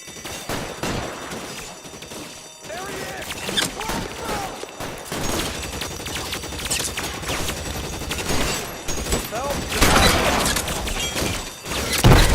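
Suppression gunfire during a shootout in LA Noire, with rapid overlapping shots and creaking mechanical clatter running steadily for about twelve seconds, loud and close, with no talking.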